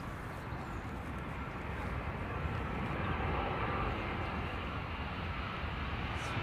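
Aircraft landing in a crosswind at London Heathrow, a steady broad roar of engines and rushing air at moderate distance, continuous and even throughout, with no talking.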